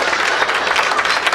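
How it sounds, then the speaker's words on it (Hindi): An audience applauding, dense, continuous clapping from a crowd at steady loudness, with no single voice standing out. "ये ताली बजा रहे हैं"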